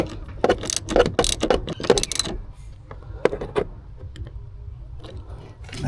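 Ratchet wrench snugging down the battery terminal on a Silverado 2500HD, a quick burst of close, crisp clicking strokes followed by a few softer clicks and quiet workshop ambience.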